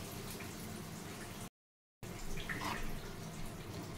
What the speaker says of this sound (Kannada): ಇವಾಗ ಇದಕ್ಕೆ ಒಂದು 2 ಟೇಬಲ್ ಸ್ಪೂನ್ ಆಗುವಷ್ಟು ನೀರು ಆ್ಯಡ್ ಮಾಡೋಣ.